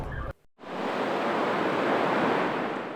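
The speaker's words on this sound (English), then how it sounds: "The waves may seem peaceful" Ocean waves breaking at Zuma Beach in Malibu on a chilly weekday, a steady broad roar of surf that continues after a brief cut from an earlier sound.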